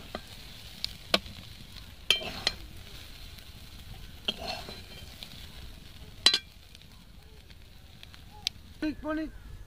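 Bengali snack frying in a pan while being stirred: sparse, separate scrapes and clinks of a spoon against the pan over a faint, quiet sizzle.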